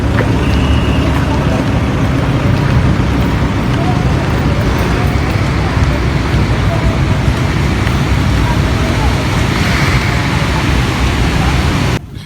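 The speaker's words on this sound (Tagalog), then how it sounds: "Nililipad ako ng hangin! Malakas na hangin!" Constant loud roar of wind buffeting the microphone outdoors, steady and dense throughout with no pauses.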